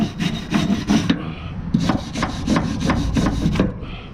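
A brush scrubs surface rust off the old metal of a horse box in quick back-and-forth strokes, a loud close rasping rhythm with a short pause midway.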